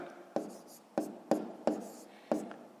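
Pen or pencil writing numbers on paper during a column multiplication, heard as five sharp scratchy strokes in an uneven rhythm over soft background hiss, close and fairly quiet.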